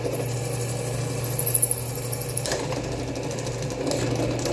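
A carbide-tipped drill bit boring through industrially hardened carbon steel: a steady, loud mechanical whine with a constant low hum runs throughout, and the pitch shifts partway through, with no talk.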